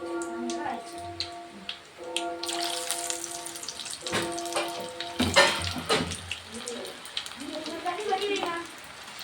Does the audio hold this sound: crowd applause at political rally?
no